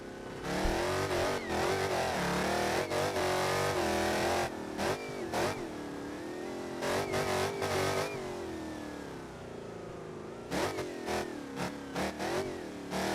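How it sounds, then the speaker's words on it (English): Modded car engine in a flood escape video game, revving hard with rising and falling exhaust notes, loud and continuous with brief dips between surges. "The exhaust notes are different on every mod I have"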